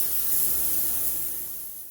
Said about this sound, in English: before he will spray the second coat of base color